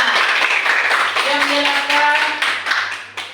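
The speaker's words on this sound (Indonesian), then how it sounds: "Kasih tepuk tangan." A classroom audience claps for a student group after its presentation in an Islamic studies lesson on halal and haram food, a dense steady patter of hands lasting throughout, with voices speaking over it.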